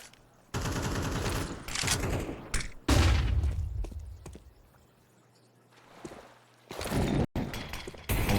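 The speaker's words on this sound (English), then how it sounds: "That's a creative flashbang from Lampada." A flashbang grenade in Counter-Strike 2 during a pro esports match bounces and bursts amid loud gunfire and game sounds, with a heavy low boom near three seconds and further sharp bursts later.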